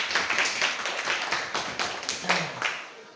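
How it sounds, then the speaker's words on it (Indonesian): Classroom applause from a small group of students: a short burst of uneven hand claps, close and moderately loud, lasting about three seconds with a faint voice underneath. "tepuk tangan."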